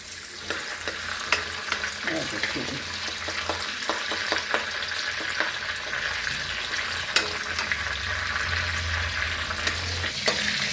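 Curry leaves and mint sizzle and crackle steadily in hot oil in a home kitchen pan while roasting for homemade namkeen, with scattered pops and stirring scrapes close by.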